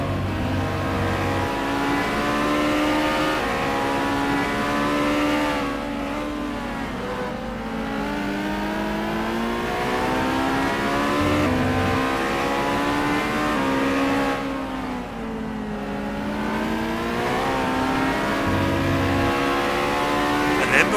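A Lamborghini race car engine in a sim racing game at Kyalami, droning loudly and continuously while its pitch rises and falls through repeated revs and gear changes.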